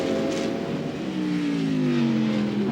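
Ferrari and Porsche race cars at Sebring roar past together, their engines droning loudly, with pitch sweeping gradually as they accelerate side by side.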